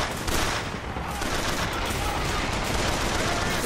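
Continuous gunfire in the video game BioShock Infinite, a dense, loud barrage of shots with no clear gaps between them.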